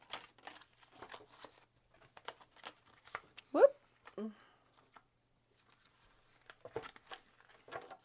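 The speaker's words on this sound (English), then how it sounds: "These cards are so hard to shuffle." Stiff tarot cards being shuffled during a weekend card reading, giving soft papery riffles and crinkles in short bursts, with one louder flutter midway, while a person talks quietly between the handling noises.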